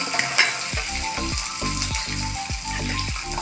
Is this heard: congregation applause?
no